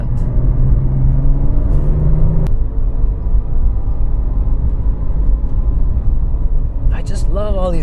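Engine rumble and cabin vibration from an early Porsche GT3 driving slowly, a steady low drone heard from inside with a faint whir over it and no voice.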